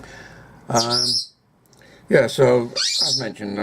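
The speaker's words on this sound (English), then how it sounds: "For some reason my parrots have decided to chatter this morning," Shrill parrot squawks ring out close by, alternating with a person talking; the bird calls are loud and harsh, partly overlapping the speech.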